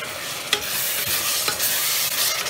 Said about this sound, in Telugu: ఇది కొంచెం ఆయిల్ అంతా రైస్కి కోట్ అయ్యేలాగా ఒకసారి మనం బాగా కలుపుకోవాలి